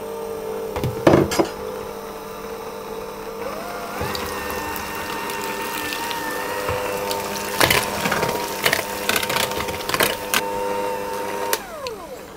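An electric mixer whirs steadily through butter, sugar and egg cake batter for a boozy Christmas cake, its pitch shifting as it works, with a few clicks and knocks and no talking.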